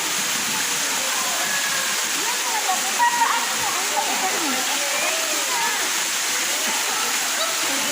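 Steady rush of water flowing from a spring, loud and constant, with faint splashes and background chatter mixed in.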